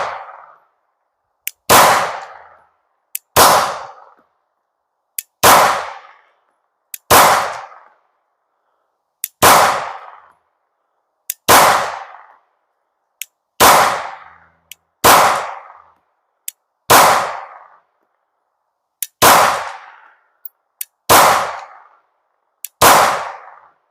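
A Glock 19 pistol fitted with a LEO Precision Oden slide fires about eleven sharp, loud shots in a slow, even sequence. Each crack is followed by a ringing echo, and a faint metallic click precedes most shots.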